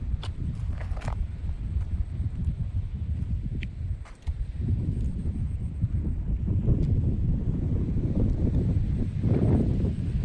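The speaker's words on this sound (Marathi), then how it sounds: "नुसतं वारं सुटलंय." Strong wind blows on a foggy road on the way to Kalu waterfall near Pune. It buffets the microphone in a heavy, continuous low rumble that swells and fades, with a short lull partway through.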